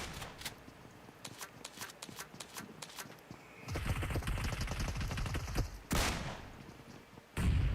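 Rapid shotgun blasts from a DBS double-barrel shotgun in a first-person shooter scrim match, several sharp near shots with louder bursts near the end, surrounded by dense in-game gunfire and clatter.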